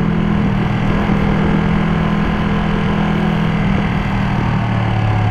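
A 2021 Ducati Panigale V2 Troy Bayliss limited edition motorcycle engine runs loud and close, a constant throbbing drone that holds nearly even throughout.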